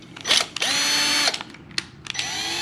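A cordless drill whirs in several short bursts, revving up and stopping, with a brief ratcheting click between runs, close and loud.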